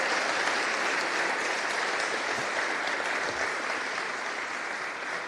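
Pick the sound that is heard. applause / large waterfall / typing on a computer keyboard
applause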